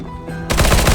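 Gunfire in the video game CS:GO on the Vertigo map: a burst of loud, rapid automatic shots breaking in suddenly after quieter game ambience, close and dominant.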